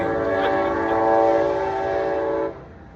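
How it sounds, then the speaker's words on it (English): A passing train sounds a loud, sustained chord-like horn for about two and a half seconds, close and steady over rolling rail noise, then the horn cuts off abruptly, leaving only the train's rumble. "That's the train."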